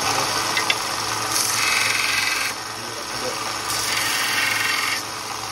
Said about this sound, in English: over to my little 1x30 belt sander